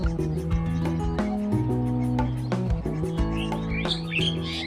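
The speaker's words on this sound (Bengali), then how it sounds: "দর্শক শুনতে পাচ্ছেন নিশ্চয়ই পাখির কিচিরমিচির ডাক সন্ধ্যাবেলা" Many birds chirp and twitter by a lakeside pond at dusk, a dense, continuous chorus of calls at moderate distance, with a calm outdoor background.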